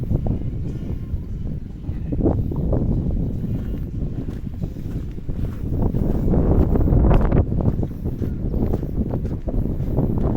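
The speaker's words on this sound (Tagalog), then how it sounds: "medyo mahangin po ngayon" Steady gusting wind buffeting the microphone at a roundabout in Roxas, a low rumbling roar that swells and fades, with no talking.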